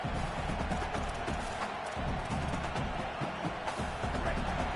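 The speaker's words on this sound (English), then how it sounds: "Listen to this crowd just shaking the girders of this place, trying to help their defense." A college football stadium crowd roars continuously while the home defense is on the field, a loud, dense, unbroken wall of noise with no clear pauses.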